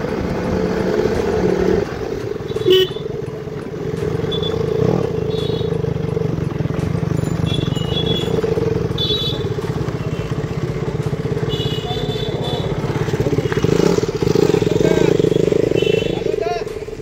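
A KTM motorcycle is ridden along a road, its engine giving a steady, close drone that rises slightly in places, while riders talk over the sound.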